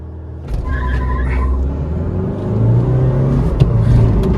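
A Kia Seltos and a Honda WR-V launching side by side in a drag race, engines surging from a quiet start into a loud, rising rumble with revving as they accelerate close by.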